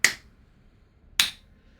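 Two sharp, isolated hand claps about a second apart, close and crisp, with silence between them and no talk.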